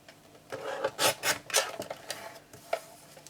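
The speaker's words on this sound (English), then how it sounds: "so I am going to trim all of this right down" Scrapbooking paper being trimmed for card making, a quiet run of soft rasping cuts and rubs, close and alone.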